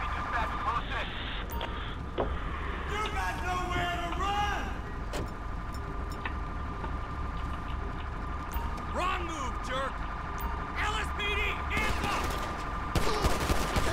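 Gunfire erupts in an LSPDFR police game at a hit-and-run homicide scene, scattered shots over car and engine noise, with a louder burst of fire toward the end while someone talks over it.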